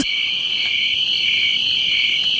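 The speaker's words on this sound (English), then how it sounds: "Crickets. Silence." Crickets chirp as a comic sound effect, a dense, steady high-pitched trill that continues loud and unbroken throughout with no talking.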